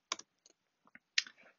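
Quiet keystrokes on a computer keyboard, a few sparse clicks followed by a short burst of faster typing, close and alone.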